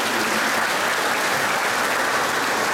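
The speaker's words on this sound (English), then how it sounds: "Let's give them a round of applause." A congregation at Mass applauds its priests, a dense, steady wash of clapping from many hands filling the church, with no voices standing out.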